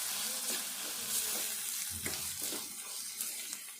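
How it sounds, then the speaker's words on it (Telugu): Ginger garlic paste fries in a pan for a tomato brinjal curry, giving a steady hiss with soft scraping and stirring bumps, close and moderately loud with no talking. "అల్లము వెల్లుల్లి పేస్టు, ఇది కూడా వేయించుకోవాలి."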